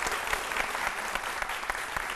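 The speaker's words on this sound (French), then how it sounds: "Merci déjà de vous tenir debout pour applaudir les enfants" A standing audience applauds children at a Christmas show, dense steady clapping filling the room at close range with no voices over it.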